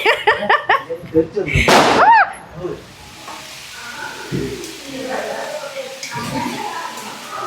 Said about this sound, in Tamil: ஐயோ, எத்தனை வெடி வைக்கிறான் எப்படி?